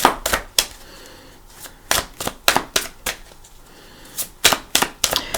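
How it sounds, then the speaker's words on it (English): Tarot cards being shuffled by hand, a series of sharp riffling and tapping bursts in irregular clusters, close and crisp with quiet gaps between. "And I'm going to shuffle for your cards,"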